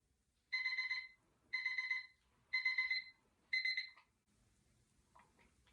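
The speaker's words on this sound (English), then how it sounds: "we are very close to meeting that 5-minute timer" A 5-minute timer alarm rings in four evenly spaced, bright electronic bursts about a second apart, clear and close against a quiet room, then stops.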